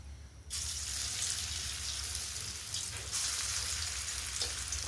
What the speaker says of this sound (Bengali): বাকি যেগুলো আছে ওগুলো ভেজে নিই